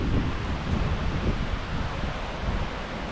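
Wind gusts across a microphone on the Turnagain Arm trail in Alaska, a steady, rushing low rumble with a faint leafy rustle, no voices.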